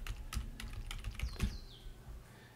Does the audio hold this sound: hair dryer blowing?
no